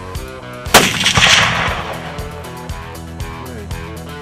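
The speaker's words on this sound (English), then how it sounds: "Was your first shot on a clean barrel?" A rifle fires a single loud, sharp report on an outdoor long-range shooting range, and the boom rolls and echoes away for several seconds.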